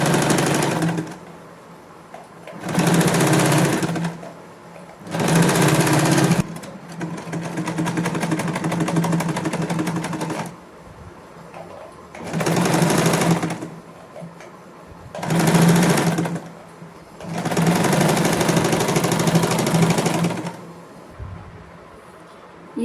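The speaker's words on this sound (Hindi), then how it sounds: "नॉचेस लगाने के बाद उसके ऊपर हम धार स्टिच लगा रहे हैं।" A sewing machine runs a stitch line over the notches on a waistcoat armhole in five or six loud whirring bursts of a few seconds each, separated by short quiet pauses, with no talking.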